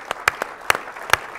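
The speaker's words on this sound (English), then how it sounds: "Let's give our students a round of applause." Scattered claps from a student audience at a talk, several distinct sharp hand claps spaced irregularly rather than full sustained applause, fairly close and moderately loud.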